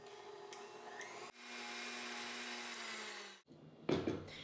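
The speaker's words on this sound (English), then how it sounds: "I'm going to start by whisking this up just a little bit to incorporate a little air." Stand mixer whisking coconut cream, a steady motor whir running in bursts: a short start, a longer continuous stretch, then a clatter as it stops.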